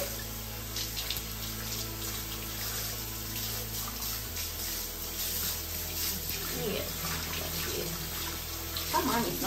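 Warm water runs in a steady, faint stream from a tap while a senior cat is bathed, with a low hum beneath it and no break in the flow.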